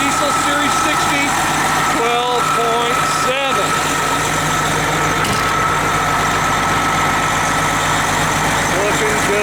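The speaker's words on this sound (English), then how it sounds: "Detroit Diesel Series 60" A Detroit Diesel Series 60 12.7-litre engine idles in a used MCI 102-EL3 58-passenger coach. It makes a loud, steady rumble that never lets up, and someone talks over it.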